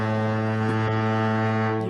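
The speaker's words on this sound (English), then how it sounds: "I like to give him the foghorns because every time they give a super chat, Terrence, they touch down, baby." A foghorn sound effect plays as a steady, loud, low blast of layered harmonic tones, held for about two seconds, sounded for a super chat on a 49ers sports talk show.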